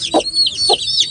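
Chickens on a farmyard haveli cluck in two short bursts, close and fairly loud, with faint chirping behind them and no voices.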